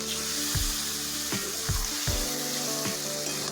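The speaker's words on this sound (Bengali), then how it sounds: "এবার দিয়ে দেব ম্যারিনেট করা মাংস।" Marinated desi chicken pieces hitting a hot pan for a Bengali curry give a steady loud sizzle with several low thuds and clatters of stirring, no voices.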